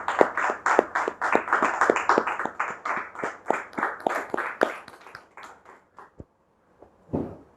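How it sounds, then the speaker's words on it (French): A television studio audience claps in quick, steady rhythm to welcome a guest onto a talk show. The close, sharp claps run evenly for about six seconds, then thin out and stop, with a brief burst near the end. "c'est avec justement des encouragements, des applaudissements que nous allons lui dire welcome"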